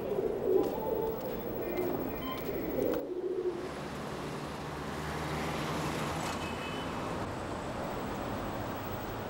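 Pigeons coo near Dongdaegu station in the city, with a few low, throaty calls in the first seconds over a steady wash of road traffic that continues alone afterward.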